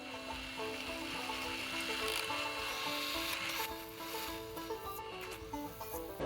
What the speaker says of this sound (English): I'm just using a 3/16 drill bit on all of the holes